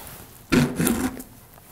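A paintbrush scrubs acrylic paint onto canvas during a colorful landscape painting: one short, close, rough rasping stroke lasting under a second, followed by quiet room tone, with no voices.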